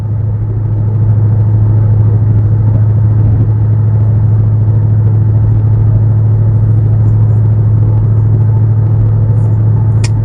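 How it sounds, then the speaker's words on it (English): A 2013 Ford Mustang GT 5.0 with a Solo Performance axle-back exhaust pulls uphill in sixth gear at about 60 mph, giving a steady, loud low drone and rumble that holds constant throughout. "we're pulling up a hill here in 6th gear, 60 miles an hour"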